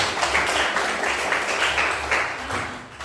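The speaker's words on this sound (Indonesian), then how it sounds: "berikan tepuk tangan" A class of students applauds, steady clapping holding for a few seconds at moderate loudness with a faint low hum underneath.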